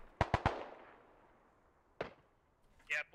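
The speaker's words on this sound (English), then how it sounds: "Ooh, more mortars." Mortar rounds landing in the military shooter game Squad: three quick sharp blasts in close succession with decaying rumble, then another impact a moment later and a final muffled burst, moderately distant.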